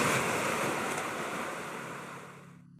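Ocean waves roll in a broad, steady roar of surf and wind, loud at first and gradually easing away before cutting off, with no voices.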